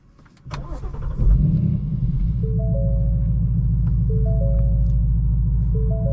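A 2019 Ford Mustang Bullitt engine cranks and catches, then settles into a steady, throaty idle with a deep rhythmic rumble, close and loud.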